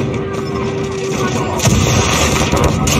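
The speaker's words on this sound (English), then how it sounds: "Enemy airstrike incoming" Airstrike explosions rumble through a Call of Duty Mobile match on the Shipment map, a steady barrage of booming blasts and gunfire that swells louder partway through.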